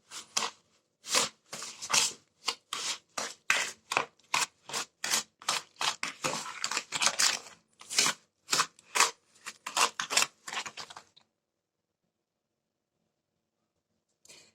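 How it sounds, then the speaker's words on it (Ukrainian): Rapid scraping and clacking of a utensil stirring thick cake batter with sour cream in a bowl, a fast rhythmic run of strokes that stops abruptly, leaving silence. "Все ретельно перемішуємо."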